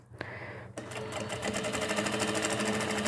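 A sewing machine stitches and lightly gathers a rag doll dress, starting with a short burst and then running in a steady fast whir of stitching, close and clear.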